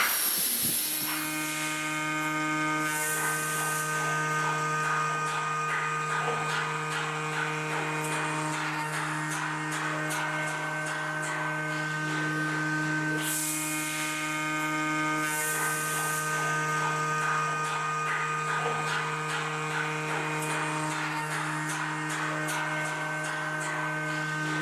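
A CNC router cuts material on its machine bed with a steady droning whine and hum that holds for the whole stretch, broken by periodic rattling bursts and brief hissy swells.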